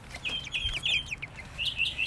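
Chickens and a rooster cluck and chirp close by in a backyard flock, a busy run of short high calls repeating in bursts with no talking.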